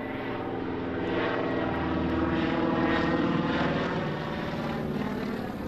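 A vintage Junkers propeller aircraft engine running and throttled up, a steady, loud, droning roar with a rough pulsing texture that swells slightly as the power increases.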